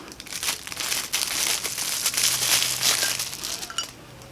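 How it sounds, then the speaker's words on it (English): Cellophane wrapper crinkling on a Jeffree Star Halloween grinder bundle, close crackly rustling in bursts of handling that continues for several seconds. "Cellophane."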